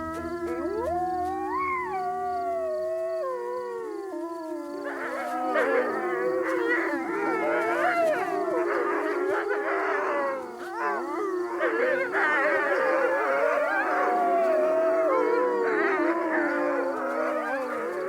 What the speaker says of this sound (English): The wolves howl to make sure no other pack has already claimed this territory.